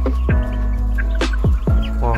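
Several chickens cluck and squawk close by in short, irregular calls while being fed, with a low steady hum running underneath.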